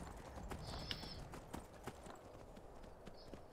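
Horse hooves clip-clopping in Skyrim, a steady run of close, crisp hoofbeats over a low ambient backdrop, with a faint whistling tone briefly above; no one talks.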